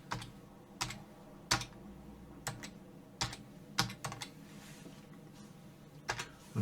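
Scattered, separate keystrokes tapped on a computer keyboard while entering an IP address to set up a Raspberry Pi, close and clear with pauses between presses and a low steady hum underneath.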